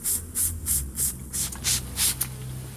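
A handheld spray bottle mists a package of honeybees being installed into a hive, about eight quick, evenly spaced squirt hisses in a steady rhythm, close and loud, the last few slightly quicker.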